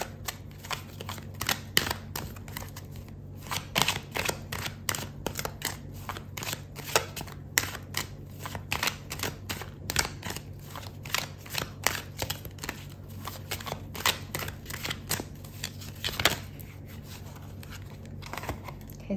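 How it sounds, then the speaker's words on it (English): Tarot cards are shuffled and drawn during a Sagittarius love reading, giving a steady run of dense papery riffles and soft slaps that stay close and fairly loud for the whole stretch, with no voices over them. "I'm going to pull out another card for you"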